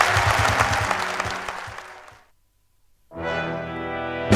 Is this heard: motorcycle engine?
no